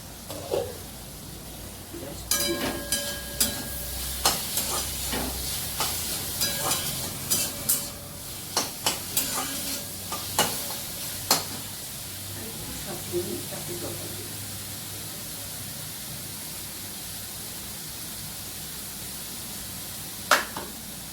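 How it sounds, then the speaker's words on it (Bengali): Puris deep-frying in hot oil, a continuous bubbling sizzle broken by sharp clicks and knocks of a utensil against the pan, with a voice talking now and then. "পুরি ভাজা হয়ে গেল"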